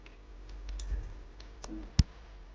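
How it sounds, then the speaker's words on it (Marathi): Half a spoon of mustard seeds spits in hot oil, giving sparse light crackles and ticks, then one sharper pop near the end. The sound is quiet and close, with no voices. "तेल छान गरम झालेले आहे याच्यामध्ये आपण अर्धे चमचा मोहरी टाकून घेणार आहोत"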